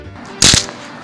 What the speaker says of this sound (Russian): вот такие петарды